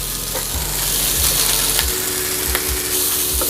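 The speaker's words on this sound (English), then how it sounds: "Now we're gonna add in some of these beautiful mushrooms," Mushrooms and red peppers sizzle loudly in a hot wok, a dense continuous crackling hiss broken by a few low knocks of stirring, close and with no talk.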